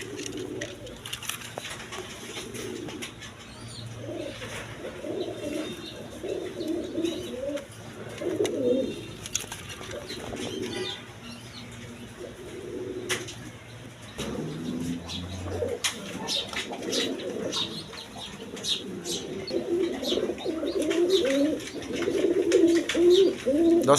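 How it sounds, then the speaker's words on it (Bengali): A pair of doves, a brown-grey pigeon-like breed, coo in soft repeated low phrases close by, with faint chirps and ambient rustle in between. "এখানে এক পেয়ার ঘুঘু কবুতর আছে সরি কবুতর না ঘুঘু পাখি"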